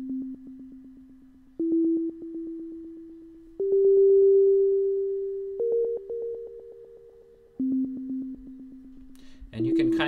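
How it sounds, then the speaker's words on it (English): Sonic Pi synth notes play a slow stepped melody of sustained pure tones, each note ringing with a long echo tail before the next pitch begins, alone and clean. "So now I've affected the decay to make the echo of each note last much longer."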